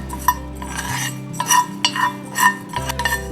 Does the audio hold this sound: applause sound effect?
no